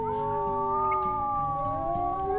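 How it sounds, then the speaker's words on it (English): Wolves in the video game WolfQuest howl together in a sustained chorus, several long sliding tones overlapping steadily and loudly against a low background rumble, with no talking. "Let's go ahead and do our morning howl."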